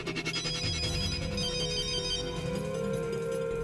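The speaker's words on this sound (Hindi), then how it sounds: "Nisha pick up the phone, दरवाजा खोलो।" A telephone rings insistently in a tense Hindi TV serial scene, its repeating electronic ringtone pattern pulsing steadily and clearly throughout, with no speech over it.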